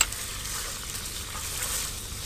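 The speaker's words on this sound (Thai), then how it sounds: "เราก็จะใส่พริกแกงลงไปผัดนะคะ" Red curry paste frying in coconut milk for a traditional Thai khanom chin nam phrik, producing a continuous bright sizzle heard up close with no talk.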